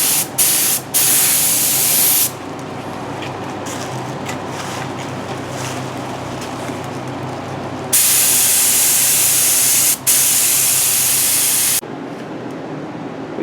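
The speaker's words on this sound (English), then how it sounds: "We finished spraying the gel coat." A spray gun lays gel coat onto a boat swim grid, giving a loud continuous hiss that cuts in and out in long bursts, with short pauses between passes.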